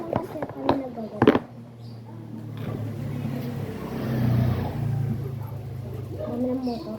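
Motor vehicles, likely motorcycles, pass by at moderate distance as a sustained low engine drone that swells and fades, with a louder pass near the middle, while people talk in the foreground at the start.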